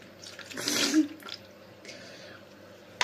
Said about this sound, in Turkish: Hemen süt ekleyeyim